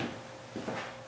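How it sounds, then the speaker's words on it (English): Tall hollow door being shifted and wobbled at the top, giving a couple of soft wooden knocks and rattles, close by and fairly quiet, with no talk. "because these are hollow, see, I can kind of move the door around at the top"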